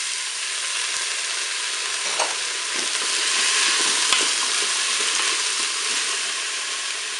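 Carrots and chickpeas dropped into a hot Cookeo multicooker pot for a lentil and chickpea salad, sizzling and frying steadily throughout with a few soft stirring clinks, close and alone without talk.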